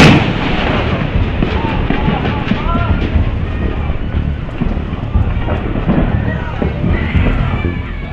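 Ammunition cooks off in a blazing warehouse fire at Ciangsana, a dense rapid crackle of bangs and pops running continuously at high volume, with faint voices and wind buffeting mixed in.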